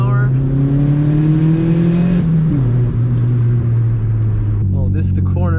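Turbocharged Honda Civic with a D16Y7 engine pulls hard from about 50 km/h inside a tunnel, a loud, rising engine drone with echoing boost whoosh that dips at a shift near two seconds, ending with a short whistle-like burst.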